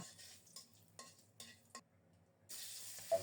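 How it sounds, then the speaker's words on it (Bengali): Whole cumin seeds hit hot oil and burst into a bright sizzle near the end. Before that come a few scattered clinks and scrapes of a utensil against the pan, quiet with pauses between them. "তেল গরম হলে গোটা জিরা ফোড়নে দিয়েছি"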